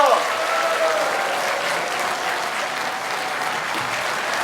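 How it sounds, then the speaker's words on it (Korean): Steady, dense applause from an audience at a political party's legislative report meeting, sustained evenly from start to finish without pauses. "힘찬 박수 좀 부탁드리겠습니다"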